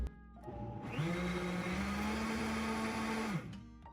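A countertop blender whirs through an ice cream base, spinning up sharply and holding a steady, loud motor whine for about two and a half seconds before cutting off.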